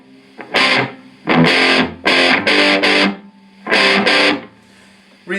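An electric guitar through a Randall RG80 combo amp with the reverb switched off plays distorted chord stabs. There are five loud, punchy bursts with short silent gaps, each cut off dry with no tail.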